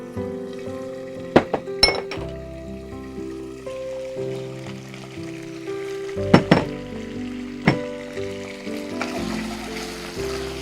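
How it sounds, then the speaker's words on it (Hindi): Ginger, garlic and green chili fry in a pan, a soft steady sizzle broken by several sharp clinks of a utensil against the metal while the paste is stirred, with no voices. "अदरक लहसुन और हरी मिर्च भी अच्छे से ये भुन गया।"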